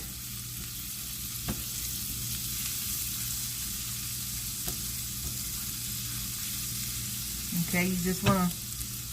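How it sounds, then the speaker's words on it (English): Garlic sautéing in a pan, a soft, steady sizzling hiss that continues throughout, with a few faint clinks and a person beginning to speak near the end. "you want to just saute your garlic"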